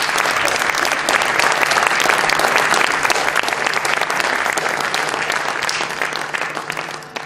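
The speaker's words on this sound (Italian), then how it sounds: "io farei un applauso" An audience at a fine arts academy in L'Aquila breaks into sustained, dense applause, loud and even throughout, tapering slightly toward the close with no talking over it.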